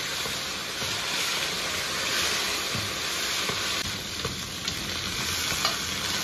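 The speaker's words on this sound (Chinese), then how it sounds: "葱姜配料都下锅" Chopped scallion and ginger hitting hot oil in a wok, a loud, continuous sizzle with stirring scrapes for several seconds, no talking.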